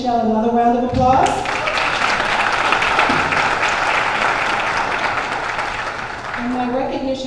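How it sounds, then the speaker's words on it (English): A burst of audience applause at a brunch gathering with dignitaries, starting sharply after someone speaks and holding as a loud, dense wash of clapping for several seconds before talk resumes over its fading tail. "another round of applause"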